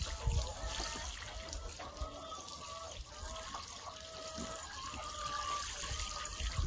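Water is poured over a home vegetable garden, a steady splashing trickle that runs close and continuous for several seconds without speech.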